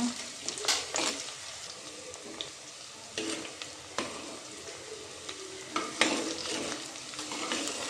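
Coconut and green chillies frying in a clay pot for a Kollatharu fish curry, a steady sizzle broken by repeated scraping stirs and light clinks of a spoon, close and fairly loud with no talking.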